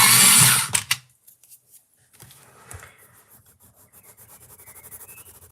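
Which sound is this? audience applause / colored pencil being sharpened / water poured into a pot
colored pencil being sharpened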